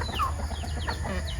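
Native chickens in a farm coop cluck softly in short scattered calls over a low background hum.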